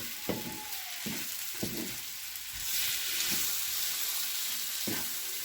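Thinly chopped eggplant slices are sautéed in a frying pan, giving a steady close hiss of sizzling broken by a few sharp utensil knocks and scrapes against the pan.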